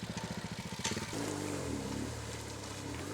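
A KTM 525 dirt bike's single-cylinder engine revs hard while the rider pulls a small wheelie on an off-road trail, a pulsing burst of exhaust thumps rising into a steady, loud drone close by.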